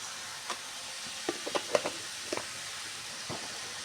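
Ash gourd peel stir-fry sizzling in a pan as it is stirred, with a faint steady hiss broken by soft scattered clicks of the spoon against the pan, no talking.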